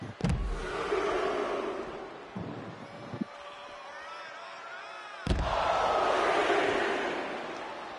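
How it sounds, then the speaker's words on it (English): Wrestling arena crowd roaring and chanting along in unison during a match, a loud sustained din with sharp slams at the start and midway. "I said no counting, crowd. They didn't listen."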